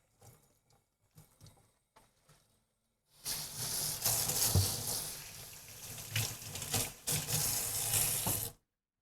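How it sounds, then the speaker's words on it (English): Running tap water rinses a whisk in a kitchen sink, a steady splashing rush about five seconds long that follows a few soft knocks and handling noises, then cuts off abruptly. "Rinse off our whisk"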